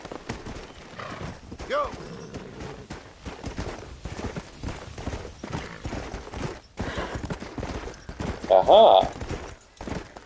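In Red Dead Redemption, a horse's hooves clip-clop in a quick, steady rhythm, with a short neigh near the end and a person talking over it.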